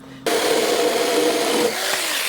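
A Saker 6-inch mini electric saw starts abruptly and cuts through firewood, a loud, steady buzzing drone with a slight change in pitch as the blade bites into the wood, no voices.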